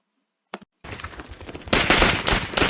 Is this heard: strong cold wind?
no